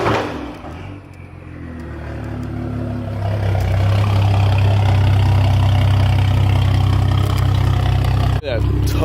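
A BMW 535i turbo engine winds down and settles into a steady, low idle, a deep continuous rumble that grows fuller after a few seconds, with a brief click near the end.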